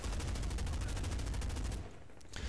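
Rapid rifle fire in the Medal of Honor open beta on the Shahikot Mountains map, a dense run of close, loud shots that stops abruptly near the end, followed by one more sharp report.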